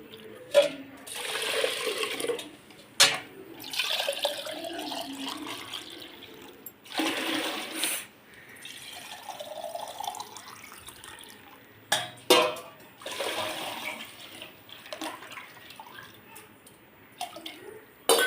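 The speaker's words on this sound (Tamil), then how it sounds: "இப்போ இதில் 3 சொம்பு தண்ணி ஊற்றிடலாம்." Water pours into a cooking pot for sweet pongal in several separate splashing bursts, each pour lasting a few seconds, with quiet gaps between them.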